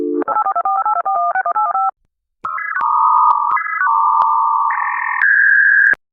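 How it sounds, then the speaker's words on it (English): A telephone keypad dialing: a rapid run of short dual-tone beeps, a pause, then longer steady tones shifting in pitch, loud, clear and close, with no voices. "Children born today will never know dial tones."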